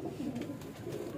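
A female Kasoori pigeon coos softly in a low, throaty burble, repeated through a short stretch with no talking over it.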